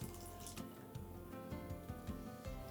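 Water poured from a blender jar into a pan of sizzling curry paste for a potato curry, a faint, continuous splashing trickle with a few soft knocks, close by and quiet.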